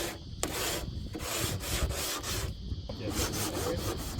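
Wood is sanded by hand with coarse 40 grit sandpaper, giving a steady, close scratchy rasp with rhythmic strokes, and a voice briefly speaks.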